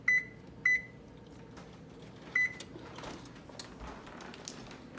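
An oven control panel beeps while preheating to 350 degrees, three short electronic tones, two close together then one more after a pause, over faint kitchen rustling and clatter.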